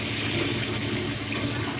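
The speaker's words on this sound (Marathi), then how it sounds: "करपू नये म्हणून थोडंसं पाणी." A small splash of water goes into a hot pan of stuffed brinjal, a brief rushing gush heard close up and alone.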